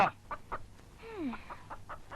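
A chicken clucks in short, evenly spaced bursts, broken midway by one longer, falling squawk, heard fairly close with no talking.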